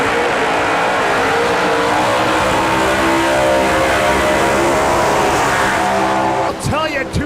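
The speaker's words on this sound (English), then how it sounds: "two beautiful smoky burnouts from these two call-out cars right here at All Out Live" A street-driven 1956 Chevy and a Chevy II drag car do smoky burnouts at a dragway, giving a loud, sustained engine roar with tire screech throughout that drops off sharply right at the end, while an announcer talks over it.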